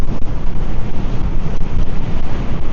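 Strong wind hitting the microphone of a Onewheel Pint S rider in a wind-tunnel-like spot, a loud, pulsing low roar of gusts throughout with no speech.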